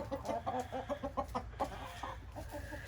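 Chickens cluck in a coop, a quick run of soft, rhythmic clucks and peeps close by, fading into a quieter murmur with no talking.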